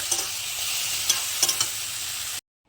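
Taro leaves (kochu shak) sizzle steadily in a hot pan at home, a close, continuous hiss broken by a few soft clicks of stirring, with no talking, ending in sudden silence.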